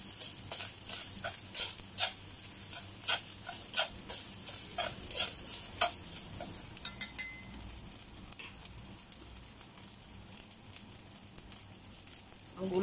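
Repeated scraping and tapping of chopsticks stirring garlic fried rice in a hot pan, with a steady sizzle underneath, rhythmic at first then easing off.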